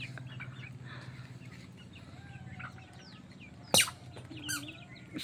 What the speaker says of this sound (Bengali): মুরগির খাবার দেওয়া হয়েছে কিন্তু মুরগিকে খেতে দিচ্ছে না।